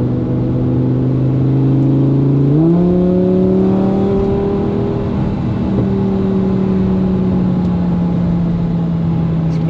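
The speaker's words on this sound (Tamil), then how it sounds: "ஸ்போர்ட்ஸ் மோடில் பார்த்தீங்களா எப்படி பான்னு போகுது" A Lamborghini engine in sport mode rises in pitch as it revs around two and a half seconds in, then holds a loud, steady droning note, close by with a faint voice underneath.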